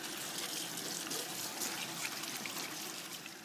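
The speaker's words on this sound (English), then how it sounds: "just wash my hands" Hands being washed under a running kitchen tap while cooking lasagna ragu, a steady close splash and trickle of water that lasts throughout without speech.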